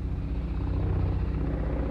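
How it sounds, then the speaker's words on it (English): A helicopter flying overhead, heard as a steady, fairly loud low rumble with a rapid rotor thump, continuous and without speech. "excuse the ghetto helicopter that's flying over hating over my video right now."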